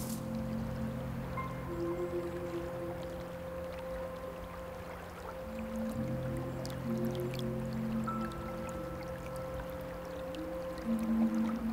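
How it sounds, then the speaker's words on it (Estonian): Water trickles and flows along the bottom of a ditch fed by a spring, a soft continuous babble that is faint and low, heard over a steady hum of distant traffic, with no talking. "Tõepoolest, siin on vesi põhjas, vesi voolab."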